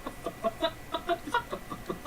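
A chicken clucks in a quick, repeated rhythm of short clucks, close and fairly loud, with no talking over it.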